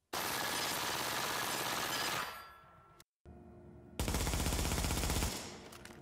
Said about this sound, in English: This clip by Iraq Veteran 8888 is an MP7 being fired fully auto with a 40 round magazine.